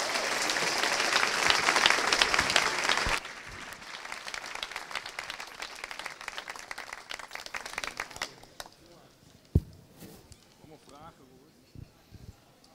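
Applause from the audience at a BètaBreak talk for two speakers: dense, loud clapping for about three seconds, then thinner scattered claps with room noise, and talking comes in as the clapping dies away.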